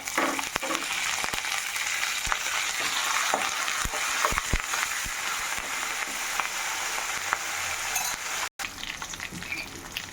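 Peanuts and curry leaves sizzle and fry steadily in hot oil for a tomato-peanut chutney, with a few sharp clinks of a utensil stirring against the pan and no talking.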